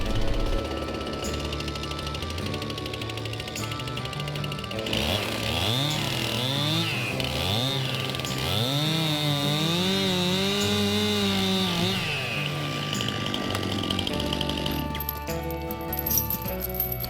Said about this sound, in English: So let me start up the chainsaw and get that cut down.